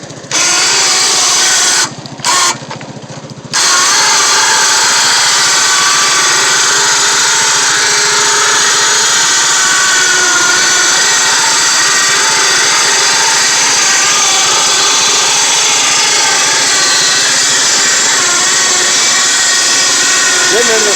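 A steady, loud mechanical whine of a Harbor Freight Badlands 2500 lb electric winch runs continuously as it drags a utility vehicle through snow, with a couple of brief dropouts near the start.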